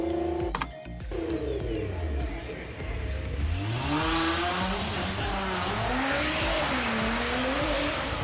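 A high-performance car of nearly 800 horsepower launches hard after building boost, its engine climbing through rising revs with whining gear changes and a hiss of tire noise, loud and close throughout.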